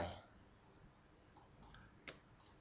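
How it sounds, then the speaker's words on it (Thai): A computer mouse clicks while the Ctrl key is held, five or six small, sharp, quiet clicks spaced irregularly, close and alone after a brief murmur of speech at the start. "คลิกกด Ctrl ค้างแล้วก็เลื่อน"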